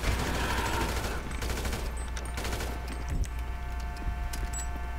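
Rapid machine gun fire in GTA V on PC, sustained automatic bursts rattling steadily over a busy game soundscape, fairly loud and without talk.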